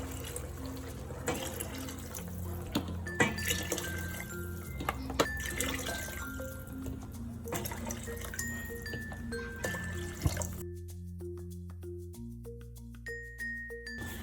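Water is poured into a pot for shrimp risotto, in a steady running stream for about ten seconds before it stops. Soft clinks and a faint tonal hum follow, with no talk.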